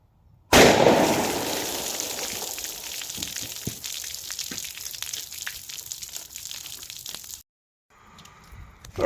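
A .357 Magnum round of Ammo Inc ammunition fired into water jugs gives one loud, sudden blast. A long splashing, crackling spray of water follows and fades over several seconds before the sound cuts off.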